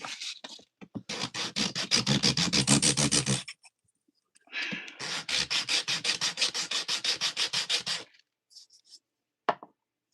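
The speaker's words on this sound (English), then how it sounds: "A piece of sandpaper" Sandpaper rubs back and forth on a wood carving in two long runs of quick, close, rhythmic scratchy strokes, with short pauses and a few stray taps in between.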